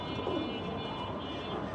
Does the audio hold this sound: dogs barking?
no